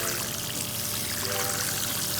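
Water pours steadily into a planting hole dug in garden soil, a continuous close splashing gush with no pauses.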